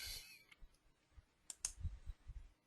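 Soft computer mouse clicks, a few short distinct taps separated by quiet, near and faint.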